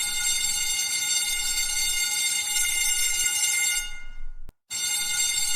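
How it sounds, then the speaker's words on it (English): A pulled fire alarm rings loud and steady with a harsh buzzing tone, cutting off briefly near the end before sounding again. "we are both going to press the fire alarm now"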